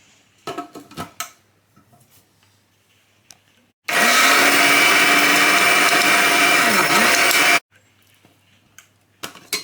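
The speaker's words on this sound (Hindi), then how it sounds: "अब इन सारी चीज़ों को पीस लेते हैं।" An electric grinder whirs loudly and steadily for about four seconds as it pulverizes whole cloves and black peppercorns. Quieter clinks and handling sounds come before and after.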